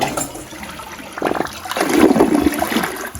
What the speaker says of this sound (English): let's give this thing a flush, see how it works.